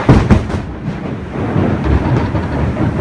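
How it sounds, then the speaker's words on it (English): Loud thunder booms indoors, strong enough to shake a roof, with a heavy rumble that rolls steadily on for several seconds. "I think that's the loudest thunder I've ever heard in my life."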